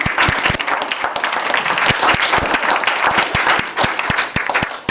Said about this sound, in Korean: 그러면 다시 한번 우리 송영대 회장님 박수로 모시겠습니다